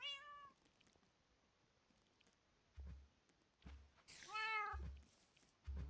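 A cat in Minecraft gives several short, high meows, one at the start and a louder cluster near the end, separated by quiet gaps with soft low thumps.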